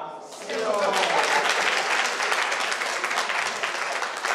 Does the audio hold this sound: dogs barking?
no